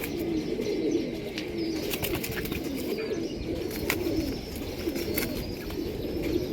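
Four domestic pigeons coo softly and continuously over a steady background hum, with the low rolling calls repeating throughout.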